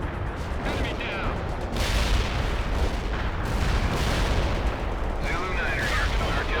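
Shells from an artillery barrage exploding in World in Conflict, a strategy game, in a sustained, heavy wash of booms and crackling impacts, with radio chatter from voices running over the top.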